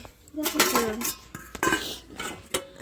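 Lids being lifted off serving dishes, a few sharp metallic clinks and scrapes of pot covers and utensils, close and fairly loud with short gaps between them.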